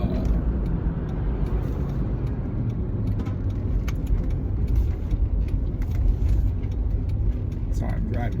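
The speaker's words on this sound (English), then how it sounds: "sorry, I'm driving, obviously" Steady road rumble and engine drone from a car being driven, continuous and fairly loud throughout, with a person talking over it.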